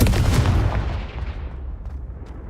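A Confringo blast spell in the video game Hogwarts Legacy lands as one loud, close explosion with a heavy low boom that rolls away and fades over a couple of seconds.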